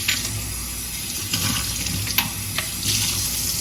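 Tap water runs in a steady, close rush while the water in plant vases is changed, with a few small splashes and clinks breaking through the flow.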